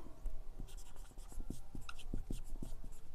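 Pen strokes scratching across paper during a Class 7 maths fractions lesson, a steady run of short scribbling marks with quick taps, close up and fairly quiet, with no talking.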